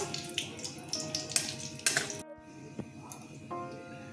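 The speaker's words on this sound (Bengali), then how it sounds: "তেজপাতা, শুকনো লঙ্কা দিয়ে দিলাম, জিরে ফোড়ন দিয়ে দিলাম" Bay leaf, dried red chili and cumin seeds hit hot oil for a vegetarian soybean and potato curry, giving a brief sizzle mixed with metal utensil clinks against the pan, then a quieter stretch with a few light taps.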